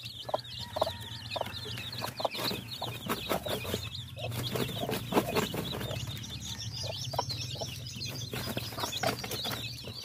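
Hens and their young, partly feathered chicks cluck and cheep busily close by, a steady overlapping chorus of short calls with no talk over it.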